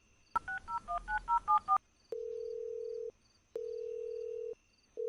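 A phone is dialled: a quick run of touch-tone keypresses, followed by two long, steady ringback tones with a gap between them, clear and close with no talking.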